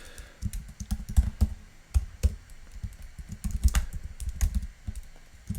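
Close computer keyboard typing while entering PHP code comes as uneven bursts of sharp key clicks with short pauses between runs.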